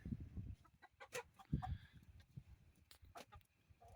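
Chickens cluck in short irregular bursts near a freshly built straw pen, the calls close and moderately loud over rustling and low handling noise, with scattered sharp knocks between them.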